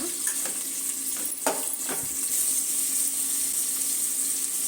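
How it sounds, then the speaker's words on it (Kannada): Onions fry in a pan with a steady hissing sizzle throughout, with a few soft utensil scrapes and clinks near the start; no talking. "ಎರಡು ಈರುಳ್ಳಿ ಚೆನ್ನಾಗಿ ಫ್ರೈ ಮಾಡ್ಕೊಳ್ಳೋಣ"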